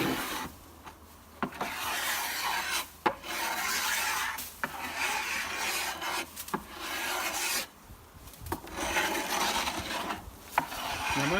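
A long-handled scraper drags acrylic paint layers off wooden weatherboards in steady, loud rasping strokes, close up and repeated with brief pauses between passes, no voices.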